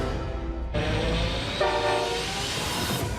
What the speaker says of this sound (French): Certains des plus grands trains au monde